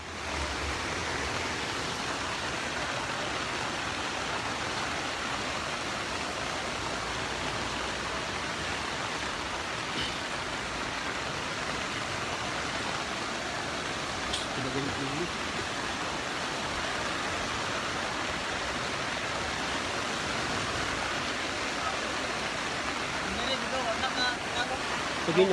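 Steady rushing of floodwater flowing after Typhoon Odette in a rural farm area, a continuous broadband roar with no breaks, close and moderately loud.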